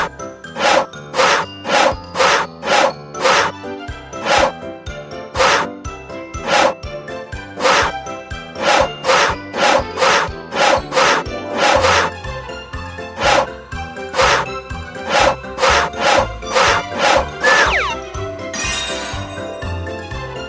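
Back-and-forth sawing of wood in a Pororo carpentry game, heard as a steady run of bright, evenly spaced rasping strokes over game music, ending in a short chime.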